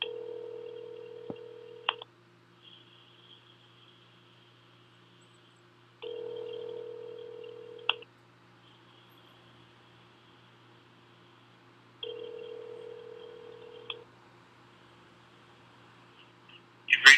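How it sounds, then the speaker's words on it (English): Telephone keypad tones sound as a call is placed, arriving in three separate two-second bursts with quiet gaps between them, over a faint steady hum, with a brief click at the end. "I'm going to call AJ."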